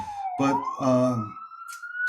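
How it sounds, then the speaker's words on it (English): Police siren wailing in New York City, a rising tone sweeping steadily upward through two seconds, loud and close, with someone speaking over it. "I'd like to apologize for the sirens."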